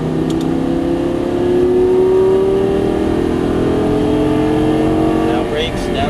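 A Lamborghini Gallardo engine drones and pulls steadily as the car accelerates on a race track, a loud sustained tone heard from inside the car beneath an instructor talking.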